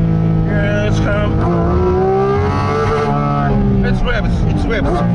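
Porsche GT4 RS engine revving hard to high rpm on a mountain pass, driven with manual shifts; a loud, continuous rising and falling engine wail fills the clip, with a brief shift change near the end.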